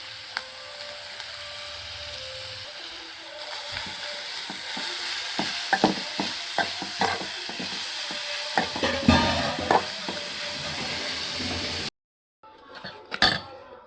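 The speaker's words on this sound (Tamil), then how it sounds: "அந்த நெய்யில் போட்டு இந்த கேரட்டை நல்லா வேக வைக்கலாம் நெய்யில்." Grated carrot sizzles in ghee in a pan for paal puttu, with a steady fry hiss and repeated scraping and clinking of a spoon stirring, ending in a brief pause and a last clatter.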